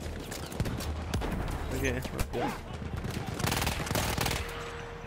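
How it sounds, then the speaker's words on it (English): Gunfire from a first-person shooter, Battlefield 1: rapid bursts of close automatic weapon shots and scattered distant cracks, loud and dense, with a player talking over the game action. "Where's this guy shooting me over here?"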